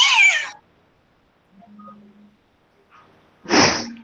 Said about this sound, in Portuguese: Tem até um gato.